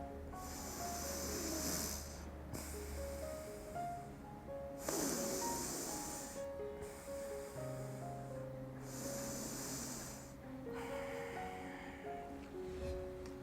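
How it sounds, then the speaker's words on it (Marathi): Chandra Bhedi pranayama, breathing in through the left nostril with the right one closed: slow, close, airy nasal inhalations and exhalations come in repeated long strokes over soft background music, with no speech. "आत्ता आपल्याला उजवी नागपुडी बंद करायची अँड डाव्या नागपुडीने आपल्याला श्वास घ्यायचा आहे"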